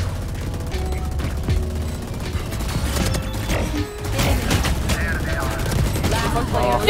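Rapid bursts of video game gunfire crackle over constant background game noise, with occasional player chatter mixed in.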